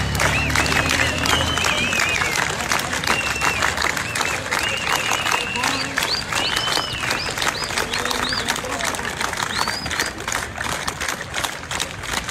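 A crowd at a protest in Bhaktapur, Nepal, claps steadily as the Nepali flag is raised, dense sustained applause close and loud, with scattered whistles and cheers rising over it.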